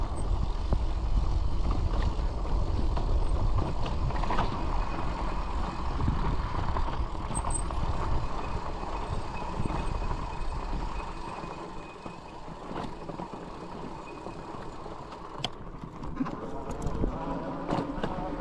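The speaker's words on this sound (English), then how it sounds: "As you can hear the noises from the rear wheel" A rolling Senada Saber 1000W electric bike rear wheel makes a steady rumbling, rhythmic clicking noise under wind and road roar while riding off-road trails.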